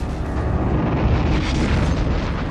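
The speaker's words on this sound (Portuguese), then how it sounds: "Os alemães disparavam balas de canhão a cada minuto nos soldados da praia." Cannon shell explosions pound a beach during the D-Day landings, a continuous heavy rumble of booms and blasts filling the scene at steady loudness, with no talking.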